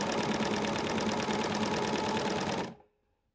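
A serger overlocker runs at a steady, fast, dense whir for a few seconds and then cuts off abruptly into near silence, with no voices, just after its thread has been rechained.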